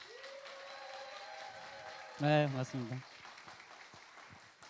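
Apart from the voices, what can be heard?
audience applause welcoming a speaker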